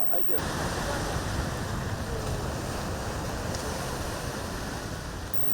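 Sea waves surging around the rocky shore of Ngor island, a loud continuous wash of surf with wind buffeting the microphone, steady and close throughout.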